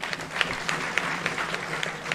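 An audience at a kirtan gathering in Alandi applauds for the Dnyaneshwar Maharaj temple trust, giving a short burst of crowd clapping with a regular, slightly rhythmic pulse.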